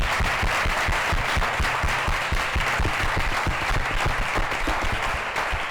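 Sustained applause from a crowd at a pharmaceutical talk gathering, a dense steady clatter of many hands clapping close by.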